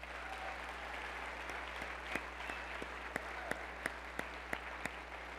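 An audience at a State of the County address applauds in a faint, thin round of scattered handclaps, with a few sharper claps standing out near the end.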